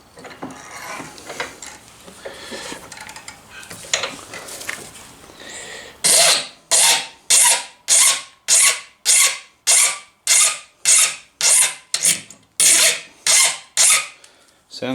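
Hand filing of recycled HDPE plastic knife scales: a dozen loud, regular rasping strokes in a steady rhythm, close up, after a quieter stretch of faint handling noise.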